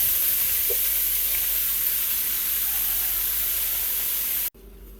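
Beef for pepper steak sautéing in a hot pan, a steady loud broadband sizzle holding throughout with faint stirring, then cutting off abruptly near the end.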